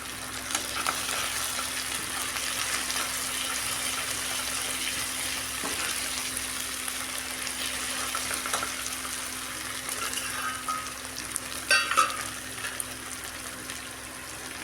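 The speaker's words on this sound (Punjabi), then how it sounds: "ਹਲਕਾ ਜਿਹਾ ਸੇਕ ਲਵਾਉਣਾ ਇਹਨੂੰ ਉਸ ਤੋਂ ਬਾਅਦ ਪਾਇਆ ਜੀਰਾ ਅੱਧਾ ਚਮਚ" Half a spoon of cumin seeds frying in oil over ginger, garlic and green chilli paste, a steady soft sizzle with occasional light crackles and stirring scrapes, close and moderately quiet.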